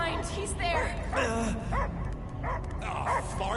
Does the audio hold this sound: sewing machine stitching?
no